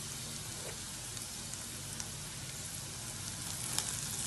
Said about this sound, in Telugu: పచ్చి వాసన పోయేదాకా ఫ్రై చేసుకోవాలి దాన్ని